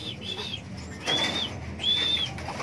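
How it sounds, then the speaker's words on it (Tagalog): A racing pigeon arriving at a derby loft flutters in, its wings giving off two or three short whistling bursts of flapping against a quiet outdoor background. "Andiyan na yung isa natin ibon."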